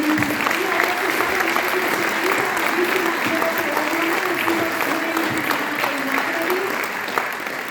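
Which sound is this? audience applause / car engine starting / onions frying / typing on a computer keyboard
audience applause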